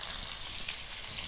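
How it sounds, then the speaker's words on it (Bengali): Potato pieces sizzle steadily in hot oil in a pan, a continuous even crackling hiss with no talk. "প্রথমে আমি হালকা করে আলুটা ভেজে নেব।"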